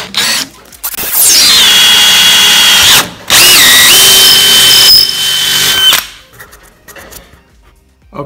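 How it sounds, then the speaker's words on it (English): A power drill bores two holes into the wooden tenons of a center board for a Parsons dining table with breadboard ends, giving a loud whine that bogs down in pitch under load, pauses briefly, then drills again before stopping. "Okay, so my two holes are drilled in the center board, in the tenons for the center board."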